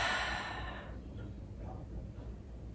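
A single soft exhaled breath during a Pilates workout, close and fairly quiet, followed by a faint low room hum.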